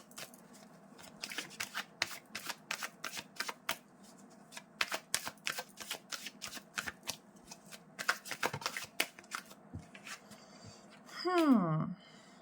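Tarot cards are shuffled in a rapid, close series of crisp riffling flicks and slaps, pausing briefly, then a longer sliding swish as a card is drawn at the end; a voice is faintly present.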